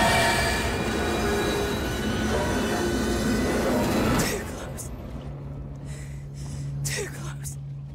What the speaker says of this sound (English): But that was still just a train.